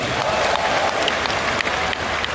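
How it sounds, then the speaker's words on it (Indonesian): A crowd applauds steadily, dense clapping filling the whole stretch at a constant, fairly loud level. "Tepuk tangan buat Anda semua."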